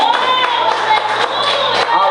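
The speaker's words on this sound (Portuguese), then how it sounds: "Você vai dar um aplauso aí só para a palavra de Deus." A church congregation applauds and cheers in a steady, loud, continuous wash of claps and raised voices that carries through without a break.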